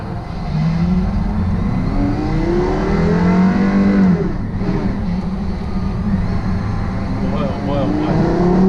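A Porsche Carrera GT engine revs hard and accelerates, its loud rising howl climbing in pitch, briefly dropping at a gear change, then climbing again up close, with excited voices talking over it.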